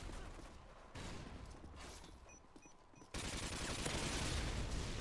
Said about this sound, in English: you're just shooting into the fences